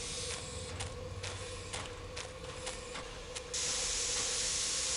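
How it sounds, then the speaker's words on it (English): Steam hissing from a broken pipe in a video game set on a train, heard as a steady, airy hiss under repeated clicking creaks, then swelling into a louder, brighter continuous rush near the end. "This must be where the steam is escaping."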